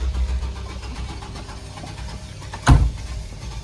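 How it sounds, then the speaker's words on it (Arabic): A car engine cranking but failing to catch, with a single loud burst of starter churn near the end over low, steady engine rumble and background noise. "صوري السيارة شوف شلون ما عم تشتغل"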